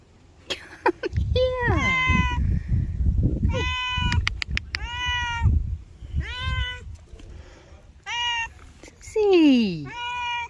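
A cat meows repeatedly in drawn-out, rising and falling calls, close and loud, while a person talks to it softly between the cries on a roofing job in Portugal.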